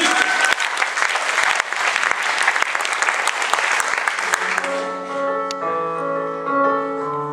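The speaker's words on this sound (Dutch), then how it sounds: "Geef hem een applaus" Audience applause fills the room as a dense, lively clapping burst, then fades out as sustained musical tones of a performance take over in the final seconds.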